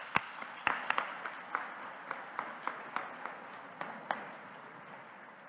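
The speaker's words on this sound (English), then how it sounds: "Please join me in giving you a round of applause." Applause at an award dinner, with scattered sharp claps standing out over a softer, steady patter, fairly faint and distant, tapering toward the end.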